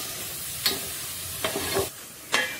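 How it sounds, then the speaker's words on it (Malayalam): Chopped banana stem (unnikamb) with salt is sautéed in a pan: a soft frying hiss broken by three or four distinct spatula scrapes and clinks, close and fairly quiet, with no talk. "ഇനി അടുത്തതായിട്ട് ഇതിലേക്ക് ആവശ്യത്തിന് ഉപ്പിടുക. നന്നായിട്ട് വഴറ്റുക."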